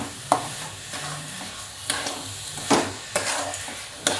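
Mango barfi mixture being stirred in a kadhai while it cooks. A soft sizzle runs underneath, broken by several sharp scraping strokes of the spoon at irregular intervals.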